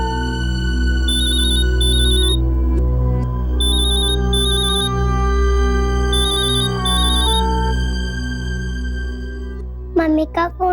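Mobile phone ringtone playing a repeating electronic melody in bursts over a steady musical hum, loud and close, with a brief voice at the very end.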